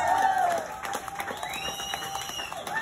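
A pub-venue audience at an evening with a punk musician breaks into applause and cheers, a crowd roar with whistles and shouts filling the room alone, without speech.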